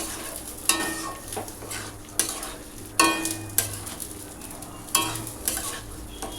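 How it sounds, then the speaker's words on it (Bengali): Chicken stir-fried with fried onion and capsicum in a pan: a steady sizzle broken by loud, regular scrapes and knocks of the spatula against the pan about once a second, with no talking. "এবার পেঁয়াজ আর ক্যাপসিকাম কুচি যেটা ভেজেছি সেটা চিকেনের মধ্যে দিয়ে আর একটু কষাতে হবে।"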